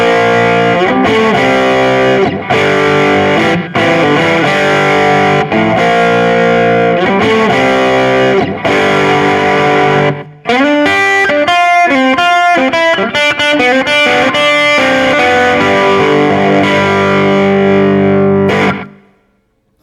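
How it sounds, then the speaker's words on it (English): Heavily distorted electric guitar chords through a Fuzz Face into a Tube Screamer, loud and saturated, with echoing repeats trailing the notes; the playing stops abruptly near the end. "Sounds were achieved by using a fuzz face going into a tube screamer."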